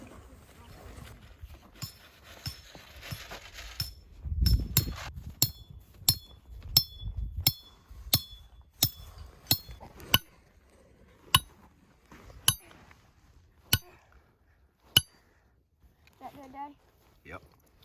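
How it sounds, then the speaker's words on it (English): Coyote traps being hammered into the ground at a Texas intersection, a series of sharp metallic strikes at an uneven pace that grows sparser, with people talking quietly underneath. "as we're all sitting here at this intersection hammering traps in the ground"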